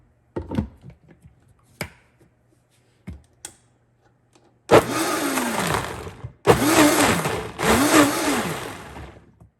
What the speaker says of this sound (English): And we're going to blend it up.